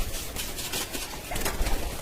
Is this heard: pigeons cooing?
yes